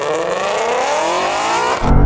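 A Porsche 911 and a Shelby GT350 accelerate hard side by side in a rolling drag race, engine note climbing steadily and loud, then a sudden low rumble and shift near the end, with no talk.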